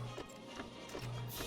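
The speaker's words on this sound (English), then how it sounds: "I'm on a horse." Video game horse hooves clip-clop in a steady, moderately quick rhythm during riding, fairly faint and close, with a soft music-like bed running underneath.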